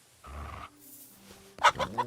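Chicken clucking in the medieval role-playing game Kingdom Come Deliverance 2, a short squawk followed by a few sharp, loud clucks up close.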